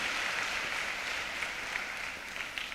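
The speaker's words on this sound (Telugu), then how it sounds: "గట్టిగా చప్పట్లు కొట్టి ప్రభువుని స్తుతిద్దాం" A church congregation claps together in praise, a dense, even wash of applause that carries on steadily throughout.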